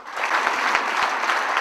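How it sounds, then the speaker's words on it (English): An audience applauds steadily at a lecture on entrepreneurship in India as a guest speaker is welcomed, a dense, even wash of many hands clapping close by with no voices. "please put your hands together and give a warm applause to Dr."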